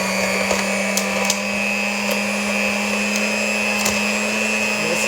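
An electric hand mixer whirs steadily through blueberry muffin batter at home, a constant motorized hum with faint rattling clicks as the beaters hit the bowl, close and continuous with no talking.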